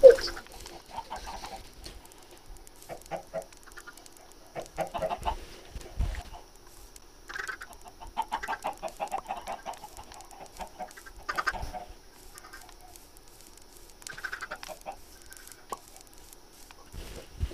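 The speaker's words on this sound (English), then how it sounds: "No, I still have chickens." Minecraft chickens cluck in short, scattered bursts over the game's quiet background, soft and intermittent, with no one talking.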